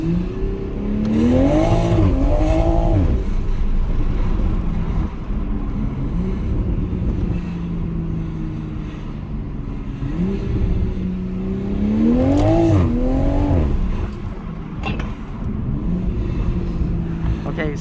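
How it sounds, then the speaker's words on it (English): A 2021 Toyota Supra A90 with its 3.0 engine driven aggressively, heard from inside the cabin as the engine revs rise and fall through repeated acceleration pulls over a steady rumble and road noise. "we are in the Toyota Supra, A90 Supra"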